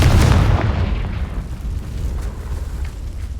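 A Confringo fire-blast spell in Hogwarts Legacy explodes in a loud, deep boom that rumbles and fades over a few seconds, heard alone.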